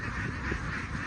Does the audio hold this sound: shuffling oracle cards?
no